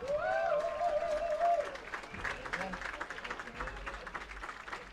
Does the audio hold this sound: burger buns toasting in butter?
no